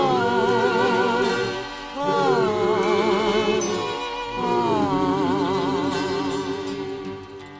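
A ciaramella, a Sicilian folk reed pipe, plays a lilting nativity lullaby at a nativity scene in Augusta, Sicily, its nasal wavering melody sustained over a steady drone, moderately loud and close, with no voices.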